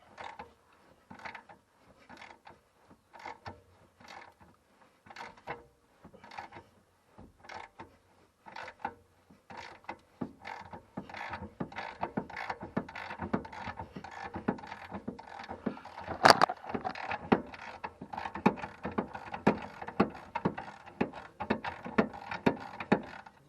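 A through-bolt being worked out of a Citroën C15 rear axle, heard as a long run of rhythmic ratchet clicks that speed up and grow denser, with one sharp metallic clank near the end.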